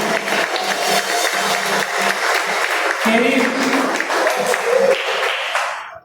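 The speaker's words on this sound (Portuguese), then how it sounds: "aplauda o nome do Senhor Jesus." A church congregation applauds during a Portuguese-language worship service, steady clapping running throughout while a preacher keeps speaking over it, voices rising and falling above the crowd before it fades out at the end.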